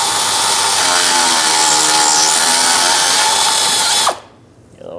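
Power tool driving a 10 mm socket to remove a nut on the power steering pressure line of a Dodge Grand Caravan, a loud, close whirring whine held for about four seconds before it cuts off abruptly.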